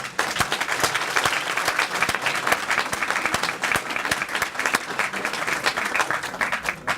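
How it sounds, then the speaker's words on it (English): Enthusiastic audience applause at a charity donor event as an honoree is called up, sustained dense clapping from a room full of people with sharp individual claps standing out, steady and loud throughout. "he deserves a big round of applause."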